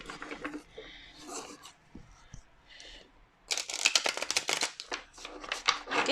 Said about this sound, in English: let me just do a quick shuffle